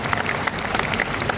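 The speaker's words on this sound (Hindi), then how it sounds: "ताली है जरा जोरदार।" An audience applauding at an appointment-letter ceremony in Haryana, a dense continuous patter of many hands clapping for the whole brief moment.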